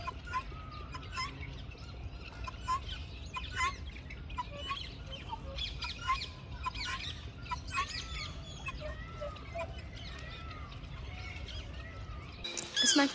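Birds calling in a bird garden with a tropical bird section, with repeated chirps, clucks and fowl-like calls near and far over a steady outdoor murmur, and a louder burst near the end.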